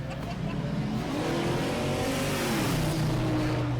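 A Crown Victoria race car engine drones loud and steady during an enduro race at Auburndale, its pitch sweeping as it works through the gears, with other engine noise around it and a commentator talking over it.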